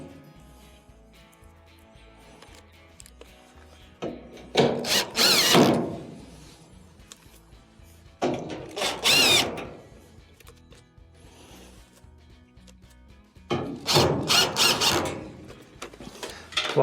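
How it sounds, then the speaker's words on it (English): A power driver runs Phillips screws back into a clothes dryer's heater assembly: three bursts of whirring drive, each roughly a second or two long, separated by quieter stretches with light mechanical handling. "Next, go around and reinstall your Phillips screws."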